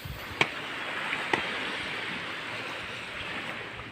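Sea waves wash steadily onto the shore by the sea, a continuous soft surf roar with two faint clicks early on and no talking.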